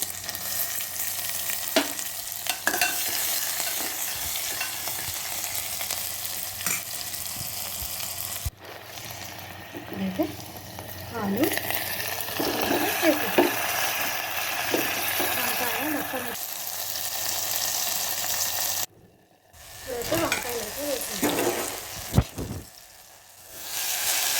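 Onion and fenugreek leaves frying in a home pan, a sizzling hiss with scattered stirring clatters that drops out briefly twice, then returns with sharper spatter and scraping near the end.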